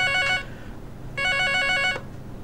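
Telephone ringing for an incoming call during a live television show, with two clear electronic ring bursts separated by a short pause, loud and close and without talk.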